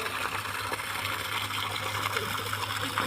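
Water flows steadily as it is diverted to water a young sapling, a continuous gushing, trickling wash with a low steady hum beneath, close and even throughout, with no talk.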